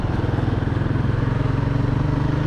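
A Royal Enfield Guerrilla 450 single-cylinder engine thrums steadily while riding, a close, loud, pulsing rumble with a regular beat and no speech.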